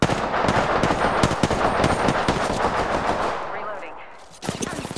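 Rapid automatic gunfire in Apex Legends rattles loud and close in dense bursts, then thins out and briefly fades before another burst of shots starts at the end.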